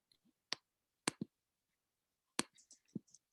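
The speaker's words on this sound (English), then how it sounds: "you can press Windows and R key and then type" Keys on a computer keyboard, the Windows and R keys, are pressed in a few sharp, quiet clicks, with a couple of isolated taps followed by a quicker cluster of clicks in a silent room.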